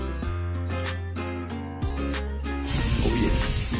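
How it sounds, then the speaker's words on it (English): A spray bottle spritzes a pork butt smoking on a Char-Griller Akorn kamado grill, giving a close, steady hiss that runs for a few seconds and then swells slightly louder near the end. "All right, let's spritz it some more."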